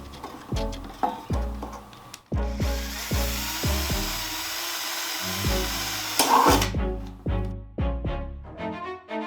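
A drill whirs in one loud continuous burst of a few seconds, close by, with sharp repeated knocks and thumps before and after it.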